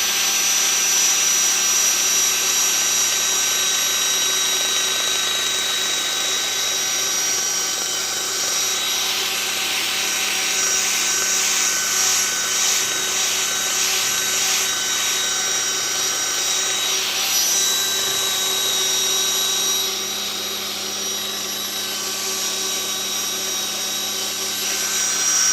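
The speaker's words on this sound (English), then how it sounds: "I'm going to wire wheel that OD a little bit." Wire wheel brushing the outer diameter of SCH10 stainless steel pipe, a steady, loud high-pitched whirring scrub that runs continuously for the whole stretch, with slight dips in pressure, no talking.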